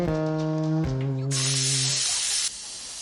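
A pressure cooker on a gas stove lets off a whistle. A loud buzzing tonal blast is followed by a sharp hiss of escaping steam that cuts off abruptly, leaving a softer hiss.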